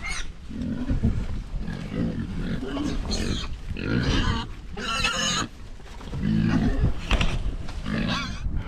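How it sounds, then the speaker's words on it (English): Several farm pigs grunt and squeal close by in loud, overlapping bursts that come and go in an irregular rhythm. "You guys are some healthy looking pigs"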